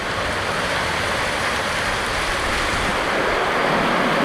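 Steady, dense rain falling, a loud continuous hiss that barely changes throughout.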